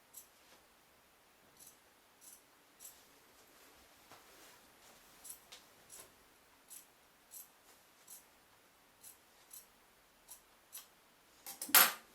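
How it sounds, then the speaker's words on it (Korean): Fabric scissors snip through the seam allowance of a peplum dress, a series of quiet, crisp cuts at a steady, unhurried pace, close and soft, ending in a louder rustle of the cloth. "그러면은 가위를 쥐고 자"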